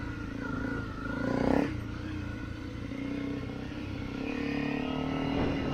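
A Honda CRF250L Rally dual-sport motorcycle rides downhill on a dirt power line track, its single-cylinder engine droning steadily up close with a brief louder rev and rattling, scraping clatter from the rough ground.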